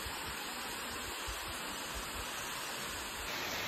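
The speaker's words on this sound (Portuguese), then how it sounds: "Olha essa cachoeira, que coisa mais linda, gente." A waterfall near Rio Claro in forested country, heard as a constant broadband roar of falling water with a faint rumble beneath, steady and unbroken throughout with no voices.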